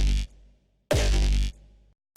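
A synth preset called Sigh style from the DOOMSDAY Serum pack plays two heavy bass-rich bursts, a short one then a longer one with a descending pitch sweep and gritty texture, loud and alone.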